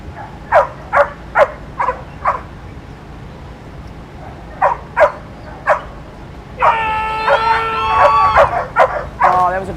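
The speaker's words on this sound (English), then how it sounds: "a 6-year-old female Belgian Malinois" A female Belgian Malinois at a dock diving event barks and yips repeatedly in short bursts, loud and close, with an announcer speaking over a stretch of the barking.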